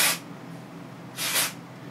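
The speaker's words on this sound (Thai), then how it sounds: "ยกขึ้นแล้วสเปรย์ห่างๆเบาๆ" Hair volume spray misted onto the hair roots in two short, light hissing bursts, near and clear, with a quiet pause between them.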